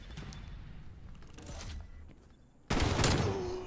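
A shotgun fires in Call of Duty: Black Ops Cold War, one loud, sharp blast that follows a stretch of quieter gunfire and footsteps in the game mix.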